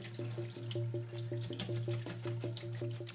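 Water running from a tap while a paint brush is rinsed in a sink, a steady rushing flow with a repeating rhythmic gurgle, close and continuous.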